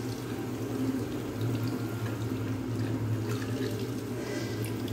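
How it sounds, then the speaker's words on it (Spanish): Steady running water from a tap during hand washing in a public square in Coacalco, Mexico, a continuous close hiss and splash with no pauses. "ya vimos que aquí sí hay agua"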